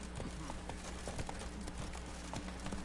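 A horse galloping in The Witcher 3, with steady, quick hoofbeats repeating close up over continuous game ambience.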